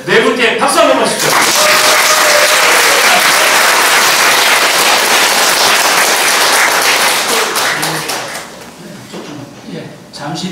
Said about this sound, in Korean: 모든 네 분께 박수 한번 주시죠.